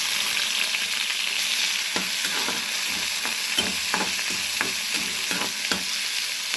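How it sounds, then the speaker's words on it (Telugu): Cumin seeds, onion, green chili and curry leaves frying in hot oil, with a dense, steady hiss and crackle over irregular soft scraping taps of stirring. "ఆయిల్ వేడెక్కినాక కాస్త జీలకర్ర వేసేసాను చూసారా జీలకర్ర చిటబట అంటుంది"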